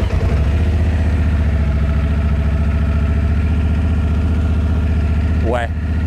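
Honda Africa Twin adventure motorcycle with the ES Sport package, its engine idling in a steady close, loud, throbbing rumble, with a brief rising whine near the end.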